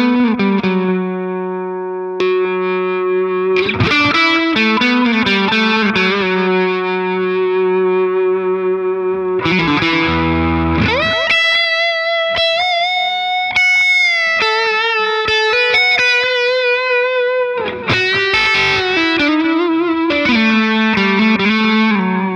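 Electric guitar plays clean without a compressor pedal, with sustained single notes and chords, bends and vibrato, ringing clearly in a steady phrase with no voices.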